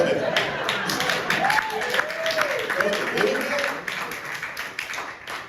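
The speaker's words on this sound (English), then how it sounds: "Just a little bit of clapping, come on." An audience claps steadily through a closing Q&A session, a dense patter of hands with some voices mixed in, fairly close and continuous before tapering slightly near the end.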